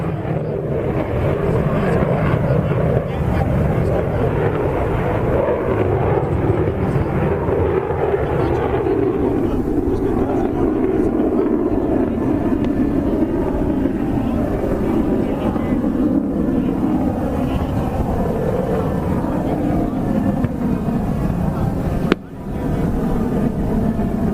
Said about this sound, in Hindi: आज कौन कौन से फाइटर जेट्स उड़ान भर रहे हैं